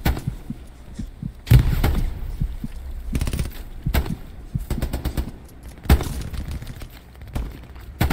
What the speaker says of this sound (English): MG behind the fence.